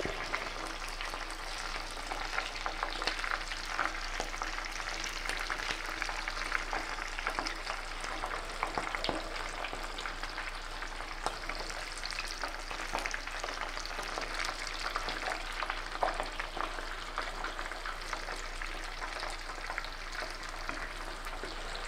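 Coconut shrimp fry in hot oil, dropped in one at a time, giving a steady, dense sizzle and crackle with no talking.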